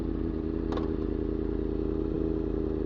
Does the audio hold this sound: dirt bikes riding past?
yes